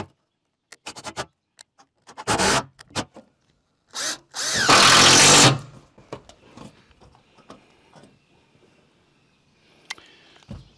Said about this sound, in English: I'm going to add extra screws up through here on the face because I don't want this blowing off.